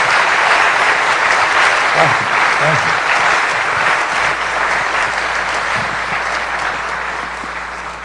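A lecture audience at the Clinton School gives a steady, loud round of applause after a talk by an author, slowly fading, with a brief spoken thanks over it.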